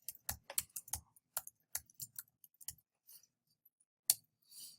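Typing on a computer keyboard, quiet irregular bursts of sharp key clicks in quick clusters with short pauses, close and alone without talk.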